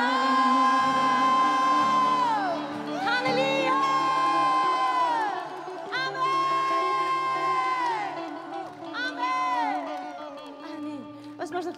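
A church congregation shouts and cheers loudly in praise, with many voices whooping and calling out together in long, overlapping bursts, close and sustained throughout.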